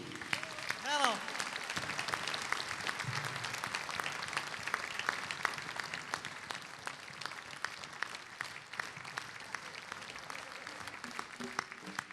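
Applause from a concert audience after a song, steady clapping filling the hall at moderate level, with a brief tonal sound near the start and no talking.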